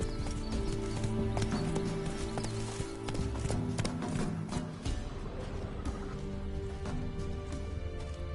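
Horse galloping in The Witcher 3, its hooves clip-clopping in a steady, continuous rhythm that carries on throughout, loud and close.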